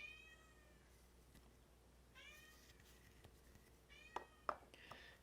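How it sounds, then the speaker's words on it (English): A cat meows several times faintly in the background, drawn-out cries with short sharp sounds between them, quiet and somewhat distant. "You can hear my cat screaming in the background"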